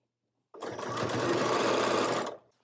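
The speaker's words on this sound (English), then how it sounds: "I'm going to open up that center seam and stitch the length of this with a 1/2 inch seam allowance." A sewing machine runs steadily for about two seconds, stitching a straight half-inch seam along the length of a quilted tote bag's lining. It starts and stops cleanly, close and alone.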